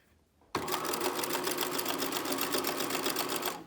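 A sewing machine stitches elastic onto a bralette, starting abruptly and then running fast and steady at a constant clatter, loud and close, with no talk.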